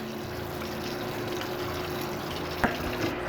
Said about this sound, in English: So then we just rinse it really, really well.